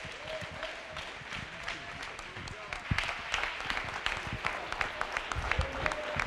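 A church congregation claps along in worship, with dense overlapping hand claps building and growing louder partway through, mixed with crowd murmur and raised voices.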